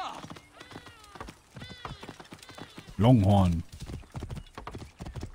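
Hooves clip-clop at a steady trot as a horse moves in Assassin's Creed Origins, with a loud snort or whinny midway, while someone talks over the game sounds.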